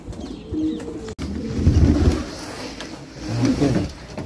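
Pigeons in a breeder cage for old birds coo close by, with soft low murmuring calls in several bursts, plus a brief rustle of movement.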